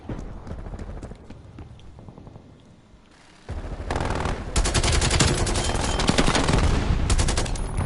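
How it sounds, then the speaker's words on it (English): Hostile sentry turrets in a shooter game open up in rapid, dense automatic bursts that grow louder and continuous after a quieter stretch of scattered shots, close and harsh with no voices. "Multiple hostile sentry turrets working your AO."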